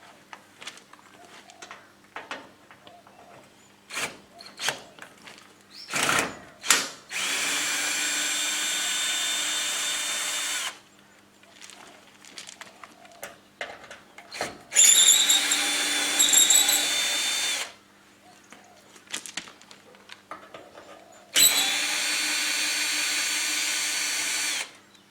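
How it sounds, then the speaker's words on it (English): A power driver with a T25 Torx bit backs screws out of a pallet: three sustained whirring bursts of several seconds each, separated by quieter handling clatter and knocks, close to the listener with no talking. "we need a T25 Torx bit driver just to remove the screws around the bottom holding the frame to the pallet."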